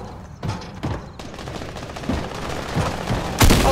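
Gunfire in the video game Fortnite: bursts of automatic weapon fire and repeated shots crack through continuous in-game action noise, with a louder, closer burst near the end.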